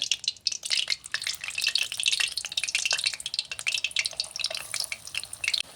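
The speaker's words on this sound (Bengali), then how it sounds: "দেখুন বন্ধুরা, তেলটা গরম হয়ে গেছে। এবার আমি এক এক করে দিয়ে ভেজে নেব।" Emoji pitha cakes frying in hot oil, a steady close crackling sizzle with dense popping bubbles throughout, no voices.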